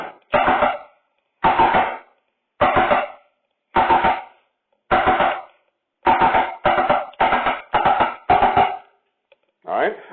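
Marching tenor drums (quads) play a passage of short sharp strokes in evenly spaced bursts, loud and close with silence between, the hits grouping faster toward the end.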